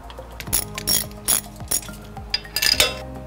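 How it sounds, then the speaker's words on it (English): A ratchet wrench bolting a wheel bearing back onto a Dana 44 axle fitted with an RCV Performance CV axle set, giving quick bursts of close, loud clicking strokes with short pauses between them. "Installing the last bearing bolt."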